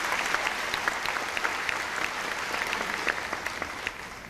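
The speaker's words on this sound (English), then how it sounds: "For this, they deserve a round of applause." Steady applause from the crowd at a high school graduation ceremony honoring graduates' scholarship achievements, with dense, continuous clapping from a large audience that tapers slightly at the end.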